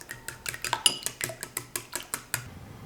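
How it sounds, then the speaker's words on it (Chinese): Chopsticks whisk three beaten eggs in a bowl, giving a quick, even series of about a dozen light clinking taps against the bowl, close and fairly quiet. "搅拌均匀。"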